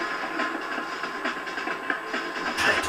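A train rolls past in the PlayStation Spider-Man game, a steady rumbling clatter with rhythmic rail clicks across the whole stretch, fairly close and alone with no talk.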